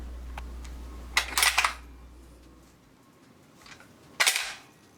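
Steel charging handle on an LCT LC3 G3 airsoft rifle, an all-steel build with steel bolt and charging arm, pulled and released twice, each time giving a sharp, loud metallic clack with a brief rattling tail, close up and without talk.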